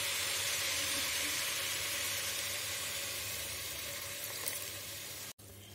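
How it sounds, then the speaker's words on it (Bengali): Mutton stock hits fried rice grains in a hot pot, giving a steady, loud, broad sizzle that holds throughout and cuts off abruptly near the end. "এবার দেবো মাটন স্টক।"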